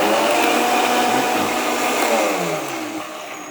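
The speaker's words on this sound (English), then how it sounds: "So top on and turn on the blender." A kitchen blender whirs through a taco zarandeado marinade, a loud, steady motor whine with churning liquid that slowly eases in level toward the end, with no voices over it.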